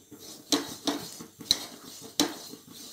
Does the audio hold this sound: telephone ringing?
no